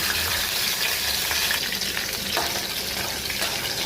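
Green chilies frying in hot oil with cumin and mustard seeds and curry leaves for a fasting-day vegetable dish. A loud, steady, close sizzle runs throughout, with no voices.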